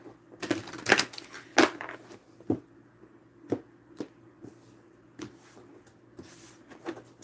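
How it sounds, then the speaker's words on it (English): Tarot cards are shuffled during a live reading, giving a series of crisp riffling and tapping bursts, a few bunched together and then spaced out, faint and close with no talk. "Give me 2 more shuffles."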